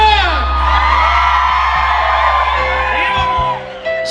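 A concert crowd at a show in San Isidro Rancho Yeguas, Tepexi de Rodríguez, Puebla, lets out loud sustained whoops and shouts, rising and falling yells filling the space over a low musical hum.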